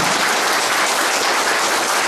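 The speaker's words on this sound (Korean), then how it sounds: "큰 박수 부탁드립니다." Audience at a photography exhibition opening breaks into dense, loud applause, a thick continuous wall of clapping throughout with no voices on top.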